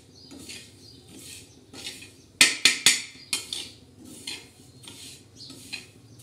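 Sesame seeds dry-roasting in a pan with no oil, stirred with a metal spoon: a soft steady rustle, then a run of sharp scraping clinks against the pan, and the rustle returns. Close and moderately loud, with no talk.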